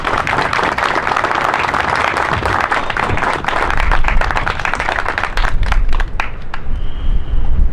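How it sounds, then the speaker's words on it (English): A crowd claps loudly to honour a walking team, dense applause that carries on steadily before breaking into scattered individual claps near the end. "Shall we all give a big applause to them?"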